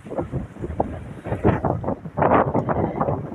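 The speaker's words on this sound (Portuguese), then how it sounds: "Olha a ventania, meu Deus." Strong wind gusts buffet a microphone outdoors during a succulent plant sale, loud irregular rumbling blasts that swell and fade with no one speaking.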